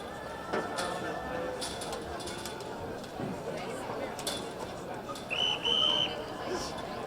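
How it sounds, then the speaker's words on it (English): A referee's whistle starts the girls' 1500 meter race at an outdoor high school track meet, a short high blast rising over steady crowd chatter and distant voices. "All right, there's the whistle."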